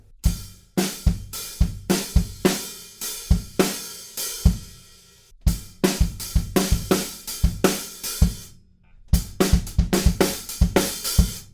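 Full drum kit playing a rock groove with tight rhythmic hits that follow the vocal phrasing at the end of a verse, punchy kick, snare and cymbal strikes in bursts separated by short gaps, loud and close, no talking.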